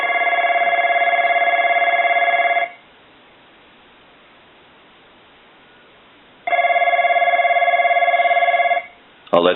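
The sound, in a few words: Snoopy Woodstock novelty telephone bell ringing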